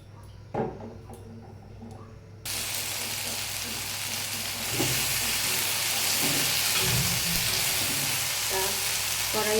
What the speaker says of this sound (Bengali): কালো জিরে ফোড়ন দিয়ে আমি যে সরিষাটা বেটে রেখেছিলাম সেটা দিয়ে দিলাম।